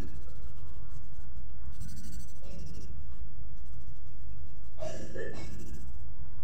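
Colored pencil scratching across paper to fill an area of a butterfly and flower drawing: steady close scribbling strokes, with brief brighter bursts of rubbing and faint breathing.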